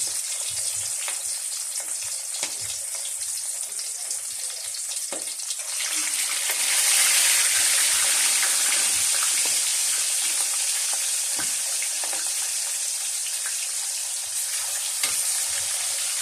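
Milkfish frying in a pan gives a steady, loud, close hiss of sizzling oil that swells partway through and keeps crackling, with a few light knocks of a utensil.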